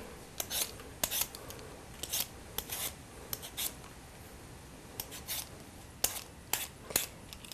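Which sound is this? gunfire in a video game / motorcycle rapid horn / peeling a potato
peeling a potato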